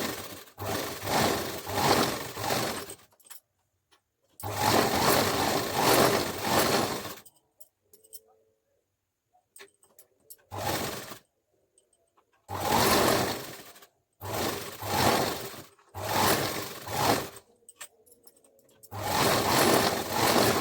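A sewing machine runs in loud, close bursts of a few seconds each, about six runs separated by quiet pauses, as it double-stitches the seams of a blouse cut straight from fabric.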